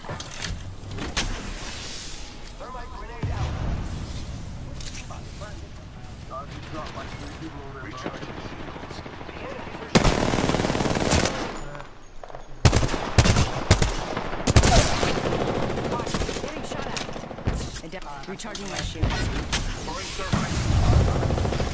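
Gunfire bursts in the video game Apex Legends during ranked play, loud and dense with repeated sharp volleys and rapid shots, layered over game noise and talking voices.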